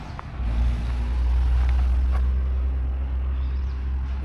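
A truck passes close by on a road, a heavy, loud low rumble of engine and tyres that swells quickly and holds steady for several seconds before easing slightly.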